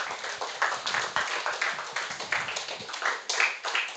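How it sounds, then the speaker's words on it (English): Graduation audience for the Augier combined class of 2025 claps in uneven waves, a moderately loud spread of hands with rhythmic pulses and no speech over it. "you should appreciate them with a round of applause if I were you"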